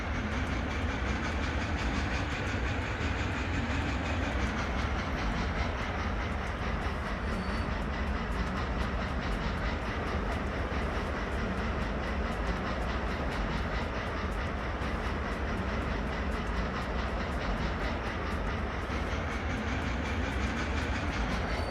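A train runs steadily along rails on the Scorched Basin map in a video game, with a continuous loud rumble and faint clickety-clack carrying through the whole stretch, no voices over it.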